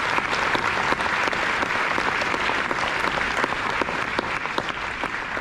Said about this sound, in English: One more round of applause for legendary Bob Foster.